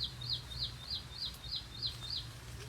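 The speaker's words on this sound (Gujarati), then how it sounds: "ત્યાં કોયલ બોલે, ત્યાં ચકલી બોલે" An Asian koel and a sparrow call in a wooded area near Botad village, with about six regular rising whistled notes repeating steadily at moderate distance over a low background hum.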